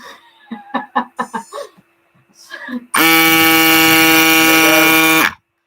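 After some brief chatter and a chuckle, an electric air pump kicks on with a loud, steady buzzing drone for a couple of seconds, then cuts off.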